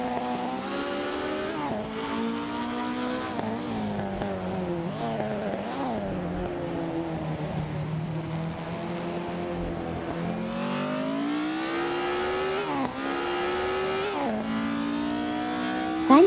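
Simulated 1950s Formula One race cars lapping the Bahrain circuit in a racing video game, engines droning and revving continuously with rising and falling pitch as cars shift gears and pass, loud and steady throughout.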